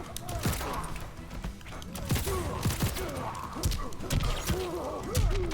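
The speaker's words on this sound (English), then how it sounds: "So RoboCop can shoot the gunshot, and they can't do anything about it" Mortal Kombat 11 fight with RoboCop firing his gun: dense rapid gunshot bursts and impacts over busy game music and effects, loud and continuous, with a voice talking throughout.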